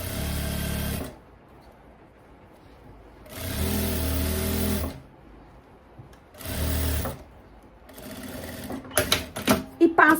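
A sewing machine stitches a seam down the middle of the fabric in three steady runs of fast whirring stitches, separated by pauses. Someone talks throughout, and handling noises follow the last run.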